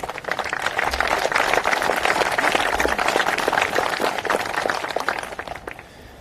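Applause from an audience at a wildfire anniversary memorial event, a steady dense wash of clapping that holds for several seconds and then tapers off near the end.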